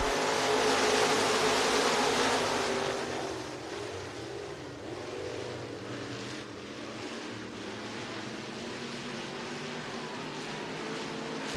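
Race cars roar around the oval at Lee County Speedway on a restart, a dense broadband engine drone that is loudest for the first few seconds, then settles to a steady, slightly softer roar with no voices.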